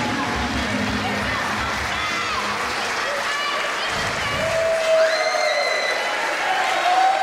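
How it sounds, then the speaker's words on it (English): Wrestling crowd at a High Tension Wrestling show claps and murmurs after a match win, a broad wash of applause under a commentator's voice, easing off midway. "the crowd showing some appreciation for a man who deserves every bit of it"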